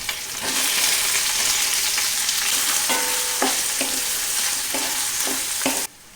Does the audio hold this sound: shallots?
yes